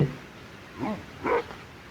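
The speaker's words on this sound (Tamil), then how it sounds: "நாயின்னு நினைக்கிறேன்." A dog in the video game Minecraft gives two short barks or yips about half a second apart, fairly close, over a quiet background.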